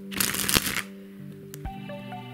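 A deck of playing cards springs from one hand to the other in a quick, dense ripple of card flicks lasting under a second, followed by a single sharp snap and soft background music.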